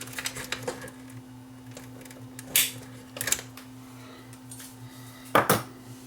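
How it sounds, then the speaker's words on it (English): Clipping a wire tie inside a Sony SLV555 VCR, heard as a few sharp snips and clicks of a cutter against plastic over a steady low mechanical hum, close up with short pauses between cuts. "Gotta cut this wire tie here."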